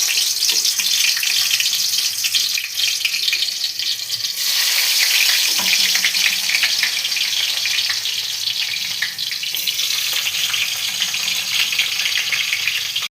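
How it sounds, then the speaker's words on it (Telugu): Bitter gourd pieces fry in hot oil with a loud, unbroken crackling sizzle close up, swelling in bursts as they are moved about, and no voices. "ఇప్పుడు ఆయిల్ వేడైంది కదా ఇప్పుడు కాకరకాయని వేసేసుకున్నాను"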